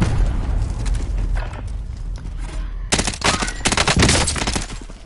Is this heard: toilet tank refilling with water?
no